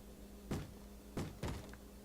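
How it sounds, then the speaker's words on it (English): Wooden door in the Minecraft video game, three short dull thunks at a moderate distance, the last two close together, heard over a quiet hum. "That's a door. That's a door sound."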